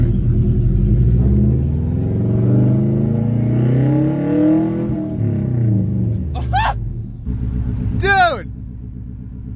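A 2003 Subaru WRX fitted with a new exhaust rumbles and revs loudly up close, its engine note rising and falling under excited voices talking over it, with brief shouts near the end.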